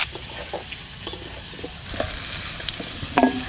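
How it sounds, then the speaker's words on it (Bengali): Potatoes frying and sizzling in a pan for a Bengali fish curry, a steady close hiss with occasional stirring scrapes and clinks. "আলুটা ভেজে নেব"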